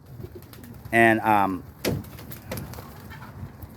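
Young pigeons coo briefly near a trap on top of a kit box, with a short burst of soft cooing early on, then a quiet flutter or knock and a word spoken by a nearby man.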